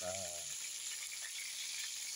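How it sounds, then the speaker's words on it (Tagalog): Tilapia sizzles and crackles steadily in hot oil, a constant bright frying hiss; a short voice sound opens it before the sizzling carries on alone. "hintayin na natin na ma-prito natin tilapia"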